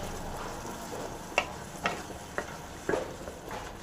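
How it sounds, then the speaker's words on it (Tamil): A spoon stirs a radish and ridge gourd preparation in a pan, giving about five light, separate taps and scrapes over a soft, steady background hiss. "நல்லா கலக்கி விட்டுலாங்க"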